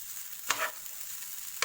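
Rice and vegetables get stirred on a hot tawa for tawa pulao, a soft continuous sizzle broken by two quick scraping strokes of a spatula.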